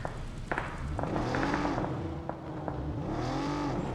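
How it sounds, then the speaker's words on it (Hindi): A car driven in the mobile game PUBG Mobile, its steady engine drone rising and falling in pitch as it accelerates, loud and continuous throughout with a few brief thumps. "यहाँ पर मैं गाड़ी लेता हूँ, गाड़ी में बैठता हूँ और मैं अपने टीममेट के पास चला जाता हूँ।"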